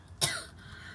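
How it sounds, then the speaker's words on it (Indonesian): A person still recovering from COVID gives one sharp, close cough that fades quickly into the open-air background. "saya masih batuk walaupun saya udah negatif"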